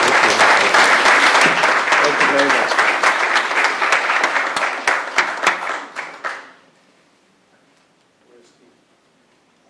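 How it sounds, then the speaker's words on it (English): A room of attendees at a policy luncheon on Africa and aid for trade breaks into loud, dense applause that thins into scattered claps and stops abruptly, followed by a brief spoken thank-you. "please join me in a round of applause."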